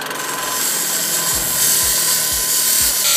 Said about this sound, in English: Should we grind it? Let's grind a little bit of it.